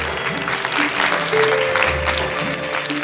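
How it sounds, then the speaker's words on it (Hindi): Loud, dense applause fills a hall at an award ceremony, sustained clapping from a large audience without a break, with a faint voice underneath. "हम जोरदार तालियों के नाद से, तालियां रुकनी नहीं चाहिए, बस गूंजती रहे, गूंज उठे पूरा भवन।"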